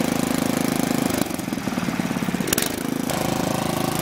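A core aerator's engine runs at full throttle on a lawn, a loud, steady, rough mechanical chug that holds close and constant throughout with no pauses.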